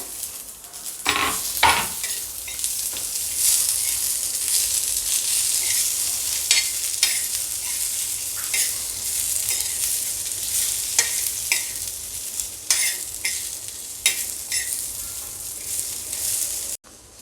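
Coconut slices and onion roast and stir in a pan, with a steady sizzle throughout and repeated scrapes and clinks of a spoon against the pan.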